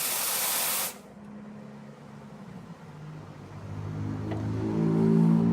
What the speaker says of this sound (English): And then you have your steam wands for steaming milk.